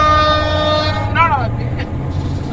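A train in a bus simulator game passes a railway crossing, a loud multi-tone horn blast holding steady then bending down in pitch, over a low rumbling engine drone.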